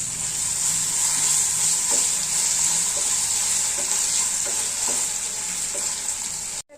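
Spoon stirring dry chilli paneer with a splash of soy sauce in a hot pan, giving a steady close sizzle under soft intermittent scraping taps, with no talking.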